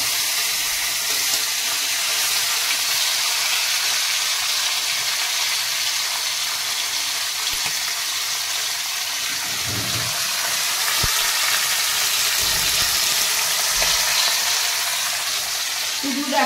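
Kochu loti (taro stolons) with turmeric boil in a pan, giving a steady, dense hiss and bubbling that stays even throughout, with a few faint clinks near the end.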